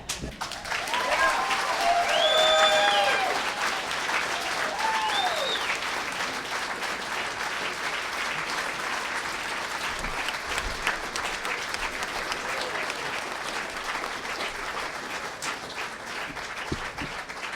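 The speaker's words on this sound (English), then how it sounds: "Let's give him another round of applause." Audience applause at the Red Stick Roundup in Las Vegas, a loud steady round of clapping with a few cheers and whistles near the start, sustained for the whole stretch.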